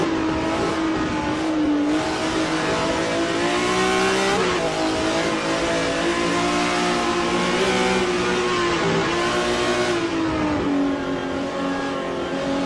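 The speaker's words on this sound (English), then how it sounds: "Let's ride with Ross Smith in the number 0 BMW M1 Group 5." The BMW M1 Group 5 race car engine in a racing video game screams at high revs, rising and dipping through gear changes in a continuous loud drone, with no commentary over it.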